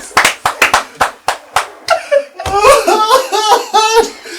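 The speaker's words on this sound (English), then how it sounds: "Please clap for yourself." An audience applauds in a run of evenly spaced claps that loosen into laughter and cheerful voices, loud and close.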